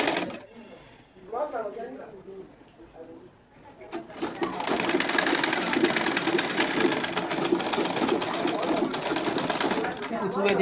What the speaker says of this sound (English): Then take it to your sewing machine. Run it down from one end to the other end of your fabric.